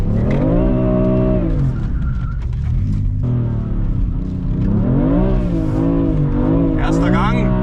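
BMW M4 pulling away in first gear on snow and slush, the engine revving loudly with rising and falling pitch and tire spin, a high squeal near the end, with people talking over it.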